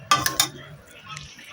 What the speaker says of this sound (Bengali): তো বন্ধুরা এবারে আমি ঢাকা দিয়ে দেবো।